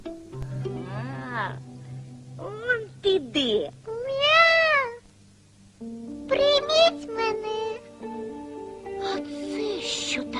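A small ginger kitten meows repeatedly in high, rising-and-falling cries, several calls in a row with short pauses, close and fairly loud.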